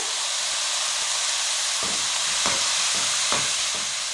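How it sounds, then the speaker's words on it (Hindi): Cabbage and carrots fry in a pan with a steady hissing sizzle, broken by a few scraping stirs of a spoon through the vegetables, close by and with no talking. "अब इसको हम 1 से 2 मिनट के लिए अच्छे तरीके से भून लेंगे।"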